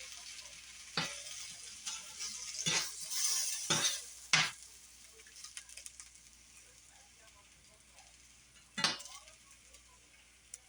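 A turkey smash burger sizzles softly in a skillet, with a steady low fry hiss beneath a few sharp utensil scrapes and clinks against the pan, the loudest bursts in the first half and one more near the end.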